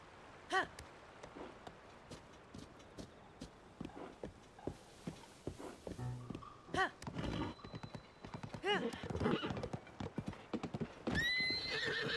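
Horse in the Zelda: Tears of the Kingdom game, with clip-clop hoofbeats, shrill whinnies and neighs, close and loud, mixed with rough footfall noise as it moves.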